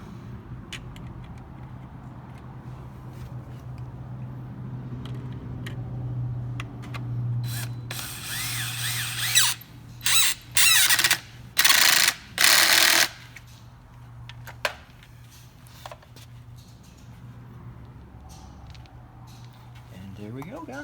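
A ratchet drives self-tapping screws while a JLT cold air intake goes into a 2017 5.0 car. Several quick bursts of loud, close clicking come in the middle, over a steady low hum, with someone talking before and after.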